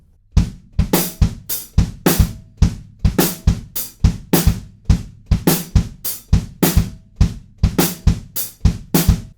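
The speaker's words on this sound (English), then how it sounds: "The hi-hats are just playing on beat 2, 3, and beat 4" A drum kit with hi-hats on beats 2, 3 and 4 in a song: crisp, bright hits in a steady repeating bar pattern, loud and close, with no voices.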